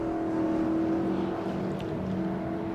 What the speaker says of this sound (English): So there is the Stud Lark, Tristram Simpson and Vance Kearney.